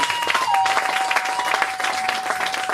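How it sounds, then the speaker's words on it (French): A church congregation bursts into applause and cheering for Jesus after a sermon, with dense, steady clapping from a packed room and a thin sustained tone running beneath it. "Donne-nous des acclamations pour Jésus"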